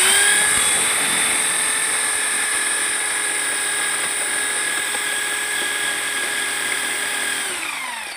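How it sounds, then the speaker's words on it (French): An electric drill fitted with a paint-mixing paddle whirs continuously while stirring sand in a steel bucket to loosen clay and dust, a loud high-pitched steady whine with gritty scraping that winds down at the end. "j'ai utilisé ma perceuse pour mélanger le sable avec ça"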